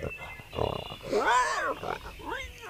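Grunting pigs in a cartoon farm story: several short rising-and-falling snorts and grunts, moderately quiet, following one another across a couple of seconds.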